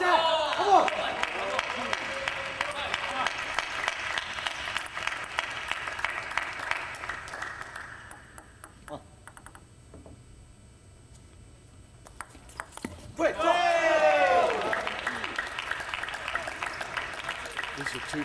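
At a youth table tennis championship in Charleston, USA, Team USA cheers and applauds a teammate's first point. Loud crowd noise fades into a quiet stretch, then a fresh burst of cheering and clapping rises.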